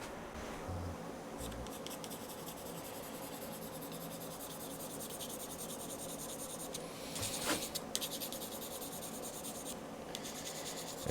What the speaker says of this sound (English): So now we'll run a pencil down the fretboard.